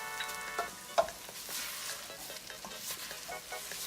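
A spoon stirs brown sugar into spaghetti sauce in a pan, soft scraping strokes and light clicks against the metal over a quiet sizzle, close and faint with no talking.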